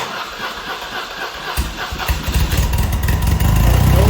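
A BMW R100RS motorcycle engine runs close by, idling unevenly with the choke cut off; its rough low rumble steadies and grows louder over the final seconds.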